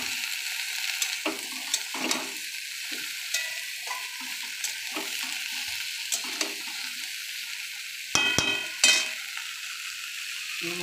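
Onions browned in oil with ridge gourd sizzling in a pan, a soft continuous fry broken by periodic spatula scrapes and two louder clatters near the end, no talking.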